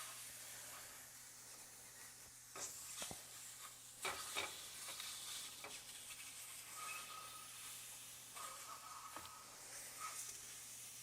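Food searing in a hot pan, a soft continuous sizzle and hiss with occasional scraping and tapping of a utensil, fairly quiet and close.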